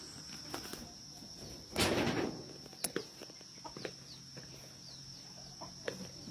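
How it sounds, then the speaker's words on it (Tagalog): Chickens and other fowl clucking in scattered short calls around a farmyard, with a louder rustling burst partway through and faint background noise. "Ang dami mga sisiw na yan."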